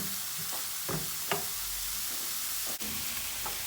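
Onions sizzle steadily in a hot pan, with a few scraping stirs of a utensil over the constant frying hiss.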